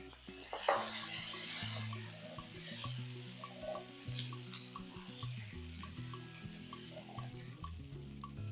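Boiled chickpeas tipped into a pan with a dried red chilli for a dry chana snack, giving a soft, steady sizzle with stirring scrapes and clinks from the spoon, close and moderately quiet, with no talk.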